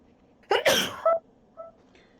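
A single sharp sneeze bursts out during a tabletop Dungeons & Dragons game session, close and loud with a quick intake and explosive release, followed by faint quiet voices.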